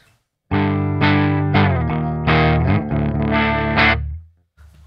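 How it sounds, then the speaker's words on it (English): Jackson JS1X Minion electric guitar on its hot bridge pickup through distortion, several thick crunchy chords strummed in a loose rhythm, loud and close, ringing out and cutting off near the end. "this is kind of on the bridge pickup meant to be distorted"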